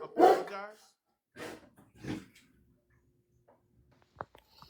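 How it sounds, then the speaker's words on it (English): A dog barks in a few loud, close bursts at the start, followed by quieter scattered sounds and a sharp click near the end, with some voice-like noise mixed in. "I couldn't hear you over the dog barking"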